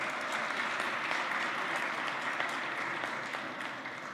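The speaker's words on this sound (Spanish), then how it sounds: "Le ofrecemos un voto de aplausos." A room of attendees at a book presentation in Bolivia claps steadily for the Mexican ambassador. The applause is even and continuous, moderately distant and fairly quiet, with no voices over it.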